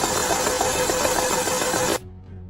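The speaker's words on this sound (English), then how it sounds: "We'll manually crank the engine over a bit to expel any excess oil." An Audi Q5 engine, just revived after flood damage, is cranked over by hand with spark plugs out, giving a steady dense mechanical whir for about two seconds that cuts off abruptly, leaving a faint low hum.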